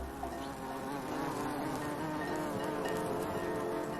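Bees buzz in a steady, dense drone, several insects close by with slight swells in loudness and no voices.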